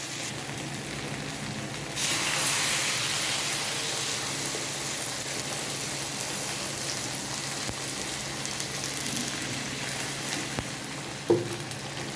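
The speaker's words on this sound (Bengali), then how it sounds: "এখন জল দিয়ে দিতে হবে।" Water poured into a pan of frying kochu (taro) fish curry with bata fish sets off a sudden loud sizzle after a quieter stretch of frying, then a steady close hiss that slowly settles, with one brief clank near the end.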